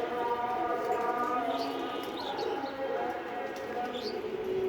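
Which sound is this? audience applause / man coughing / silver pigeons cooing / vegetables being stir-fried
silver pigeons cooing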